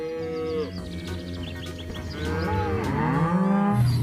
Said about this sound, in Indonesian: ini adalah seekor sapi